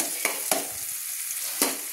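Onions browning in hot oil for Bengali Bata fish curry, a dense continuous sizzle with a few sharp crackles and spoon scrapes against the pan.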